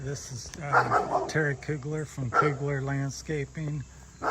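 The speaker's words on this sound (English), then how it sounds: "Pardon the dog in the background." A neighbor's dog barks repeatedly in the background while someone talks over it outdoors, the barks moderately loud and intermittent with insect chirping beneath.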